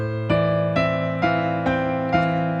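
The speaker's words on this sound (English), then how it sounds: "That's the sound of 8th notes." Piano playing a steady run of eighth notes, with each struck note clearly separated over sustained lower tones in an even pulse, solo and close.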